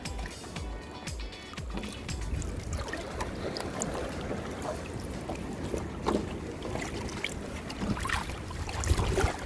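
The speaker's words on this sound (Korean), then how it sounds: "저기 멀리 파도 치는 소리 들리시죠?" Faint rushing wash of sea waves breaking in the distance on a rainy day, mixed with wind noise and water sloshing nearby, no speech.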